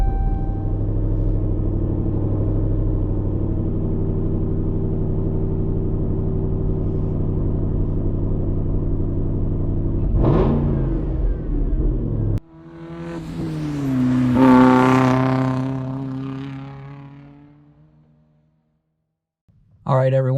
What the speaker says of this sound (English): we're going to start off with a cold start. This time, we're just going to do it with inside the vehicle.